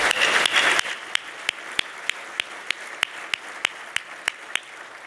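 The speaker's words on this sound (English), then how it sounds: "Let's give them one more enormous round of applause" Applause at an awards dinner, a short burst of dense crowd clapping that quickly fades, leaving a few isolated, evenly spaced single claps ringing out near and clear.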